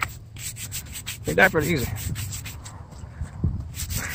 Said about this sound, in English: I just use a brush right here, and I scrape them up like that.